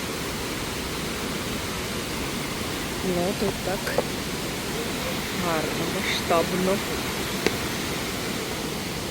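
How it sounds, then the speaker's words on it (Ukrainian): Probiy waterfall in the Carpathian mountains roars as a steady, broad rush of falling water, loud and continuous throughout, with a person speaking over it in the middle. "Це ми приїхали в водоспад, називається Пробій."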